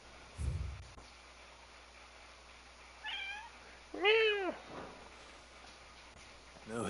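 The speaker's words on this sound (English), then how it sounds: "Go away, kitty cat." A cat in the video game Final Fantasy XVI meows twice in close succession, short rising-and-falling cries standing out over quiet game ambience, with a soft thump near the start and a fainter sound afterward.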